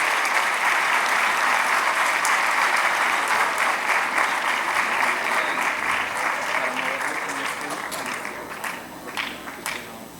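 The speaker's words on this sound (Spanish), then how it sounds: "Le damos una cordial bienvenida al hermano Andrés con un fuerte aplauso" A crowd gives loud, sustained applause welcoming Brother Andrés to the stage at a talk on Syria, the clapping steady for several seconds before thinning and fading toward the end.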